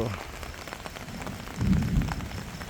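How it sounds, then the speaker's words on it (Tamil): Heavy rain falls during a fire outbreak in Jaffna, a steady hissing wash with a low rumbling swell midway, heard close, as a voice speaks faintly beneath it. "இப்படி அடிச்சுதாண்ட ஒரு மழை"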